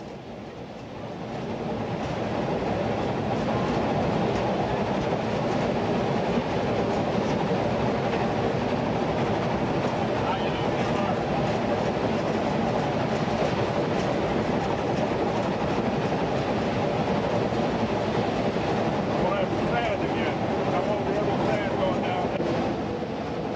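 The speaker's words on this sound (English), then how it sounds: "Climbing again, the engine is working the last few miles of grade to the summit at Sherman." Union Pacific Challenger steam locomotive working hard up the last miles of grade toward the summit at Sherman, a loud, steady rumble of exhaust and rolling train noise with wind across the microphone, continuous throughout.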